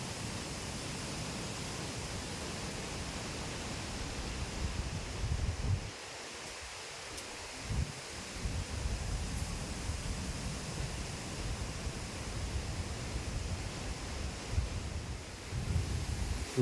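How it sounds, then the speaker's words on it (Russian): Strong wind roars on a highway beside a pond as a cyclist rides, a continuous broadband rush buffeting the microphone, with a brief lull midway before the gusts return. "Ветер капец какой дует."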